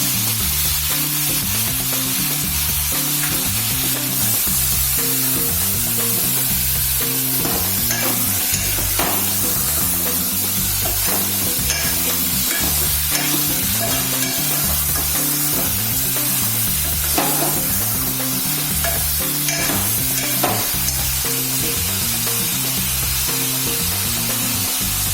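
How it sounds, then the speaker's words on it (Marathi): Chicken pieces frying in hot oil in a pot hiss and sizzle loudly and continuously, with repeated scraping and clattering strokes as they are stirred. "पातेल्यामधलं तेल गरम झाल्यावर आपण चिकन टाकूया"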